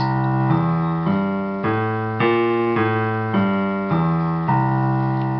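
A quick piano run of arpeggiated chords, notes struck in a steady rhythm, clear and close with no voices.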